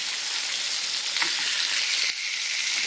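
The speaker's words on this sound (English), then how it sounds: "So now you add your meat." Beef sizzling loudly as it is added to hot olive oil in a pan for Ecuadorian-style pepper steak, a dense, steady hiss close up with a brief soft clink partway through.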